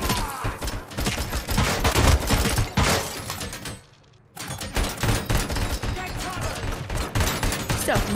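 Loud, dense automatic gunfire from the RoboCop: Rogue City video game, sustained heavy shooting with clattering impacts and a short lull midway before the barrage resumes.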